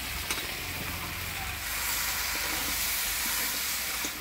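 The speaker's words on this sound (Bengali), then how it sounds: "মশলার সাথে ঝিঙ্গাটা ভালোভাবে নাড়াচাড়া করে নিলাম।" Ridge gourd pieces stirred into a pan of spiced potato give off a steady broadband sizzling hiss that swells louder and denser after the first moments, with scattered scraping and clinking from stirring.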